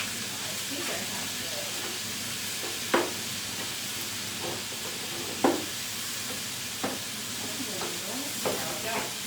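Sloppy joe meat cooks in a pan with a steady, soft sizzle throughout, broken by a few sharp scrapes and stirring clicks at intervals.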